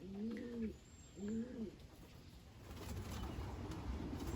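Racing pigeons coo twice in quick succession, close and clear, then give way to a steady rustling background with no further calls.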